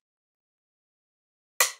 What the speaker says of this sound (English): We have the rim snare here, which is a snare that sounds like a rim sound.